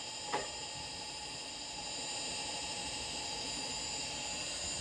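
A Monolith Titan Flat, Lagom P64 or Eureka Oro SD coffee grinder motor runs steadily to the end of a grind, a continuous high-pitched whine with a brief click near the start, close and alone.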